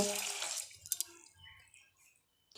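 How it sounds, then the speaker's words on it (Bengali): Grated potatoes being washed in water, giving faint splashing and sloshing up close at first, then a few small drips and quiet trickles. "এবার তো আমি আলুগুলো ভালো করে ধুয়ে নেবো"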